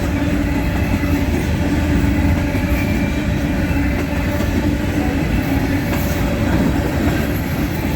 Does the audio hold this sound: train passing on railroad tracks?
yes